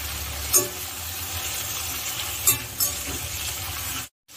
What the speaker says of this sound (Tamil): இது ஒரு 5-10 நிமிஷம் இது நல்லாவே கத்திரிக்காய் நல்லா இதெல்லாம் குக்காயி வதங்கணும்